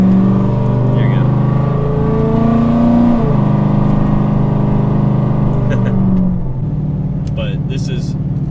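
A 2010 Dodge Challenger engine and exhaust hold a steady, droning rumble up close. The pitch shifts slightly twice before settling to a lower, even hum.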